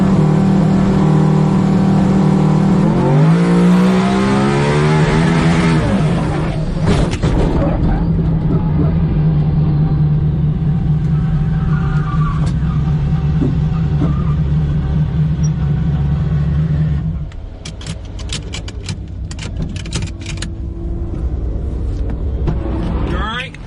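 A drag race car's engine roars hard and accelerates, rising pitch sweeping up, then holding a loud sustained drone before a rougher crackling stretch, with people talking over the noise.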